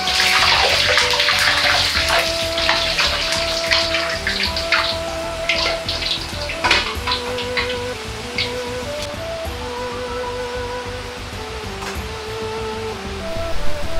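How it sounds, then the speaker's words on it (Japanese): Glass noodles (harusame) deep-frying in hot oil, a dense continuous bubbling crackle with scattered sharper pops, steady at moderate level throughout, alongside a faint tonal hum and no talk. "春雨を揚げていきます。"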